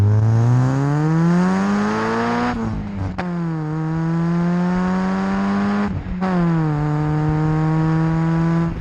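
A car engine revs loudly and steadily with a throaty exhaust note, dipping briefly twice before climbing back up, close by and with no talk.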